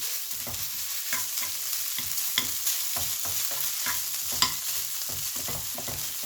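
Garlic rice with sausage being stir-fried in a pan, a continuous close sizzle broken by repeated rhythmic scrapes and knocks of a spatula pressing apart rice clumps, with no voices.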